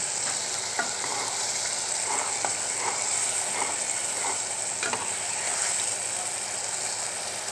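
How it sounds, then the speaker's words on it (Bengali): Chili, coriander and turmeric powders frying in a pan while being stirred for a kechki fish curry, a steady close sizzle with soft rhythmic scraping strokes throughout. "মরিচের গুঁড়া, ধনিয়ার গুঁড়া, হলুদের গুঁড়া সব দিয়ে ভালো করে কষিয়ে নিচ্ছি"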